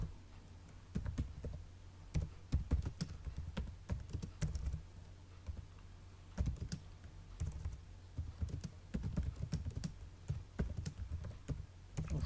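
Keys tapped on a computer keyboard while writing HTML code, close and fairly quiet, in irregular bursts of quick clicks with short pauses between them.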